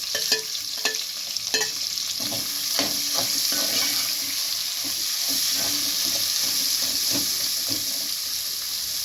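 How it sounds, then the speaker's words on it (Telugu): Chopped onions and green chillies frying in oil in a pan, a steady close sizzle with scraping and stirring clatters throughout. "ఆనియన్స్ గ్రీన్ చిల్లీస్ వేసి ఫ్రై చేసుకోవాలండి"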